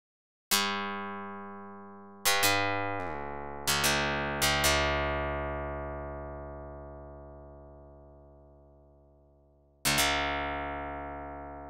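Synthesized plucked string notes built in PureData with a low pass filter in the feedback loop, six bright plucks with a pause before the last, each ringing out and dulling as it decays, clean and alone.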